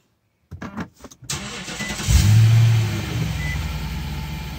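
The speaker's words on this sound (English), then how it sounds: "Start the car." An Infiniti car engine with a sport muffler cranks over with a few quick bursts, then catches and settles into a steady idle hum with a low, booming exhaust rumble.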